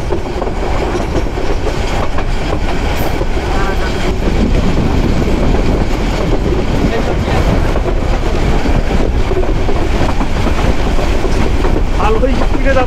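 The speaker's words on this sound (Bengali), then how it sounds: "ভালোই স্পিডে যাচ্ছে কিন্তু ট্রেন" Mohua commuter local train travelling at speed on the line toward Joydebpur, Bangladesh: a loud, steady rumble with continuous wheel clatter and rushing wind noise heard from inside the carriage.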